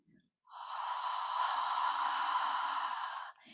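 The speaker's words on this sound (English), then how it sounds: "Creating a sound so that as you're breathing out, it's like you're in the bathroom fogging a mirror." A slow, gentle exhale during yoga breathing, voiced as a soft, breathy "ha" like fogging a mirror, held steadily for about three seconds, close and alone after a brief intake of breath.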